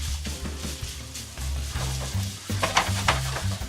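Steak fajitas sizzling in a very hot pan, with a crackling fry hiss and repeated scraping, clattering stirs of the utensil against the pan, close and busy.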